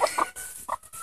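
A few short, close clucks from chickens, coming in quick separate bursts with brief pauses between them.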